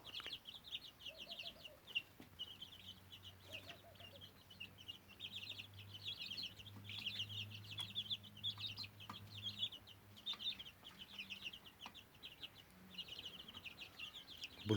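A flock of cold-hardy Kyrgyz grey chickens clucks steadily at close range, with soft overlapping clucks, occasional louder calls and high chirps throughout, and no talking.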